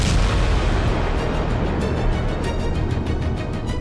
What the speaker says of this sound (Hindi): ताबड़तोड़ बम धमाका, आसमान तक आग,